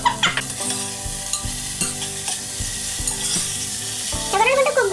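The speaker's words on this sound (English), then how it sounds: "Now I'm going to add the onions and a little bit of chili" Onions and chili fry in hot oil in a cooker, a steady loud sizzle with repeated scraping stir strokes, plus a brief higher clatter near the end.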